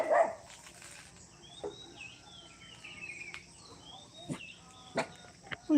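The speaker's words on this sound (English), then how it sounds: "What are you barking about?" Dogs bark in the distance outdoors, a few short faint yaps scattered across the stretch over a quiet background of birds and insects.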